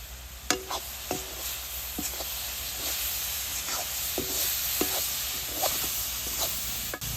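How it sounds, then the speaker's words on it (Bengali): Coconut and sugar filling for Bengali fried pitha cooking in a pan, a steady soft sizzle under repeated scrapes and knocks of a stirring spoon, close by and with no talk. "দেখেন নাইকলের মধ্যে চিনি দিছি, চিনি জল খাচ্ছে।"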